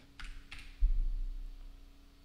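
Keys on a computer keyboard are tapped in a few quick, light clicks, then a brief pause, heard close and quiet in a calm indoor setting.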